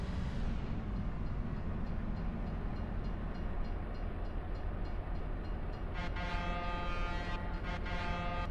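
A train in Farming Simulator 25 rumbles steadily past at close range, a continuous loud rolling drone, then a multi-tone horn sounds for the last couple of seconds, no talk.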